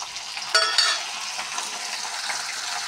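Crabs tossed into onions frying in a pan, with a sudden burst of sizzling and a couple of clattering knocks, then steady frying hiss continuing close up, with no talking.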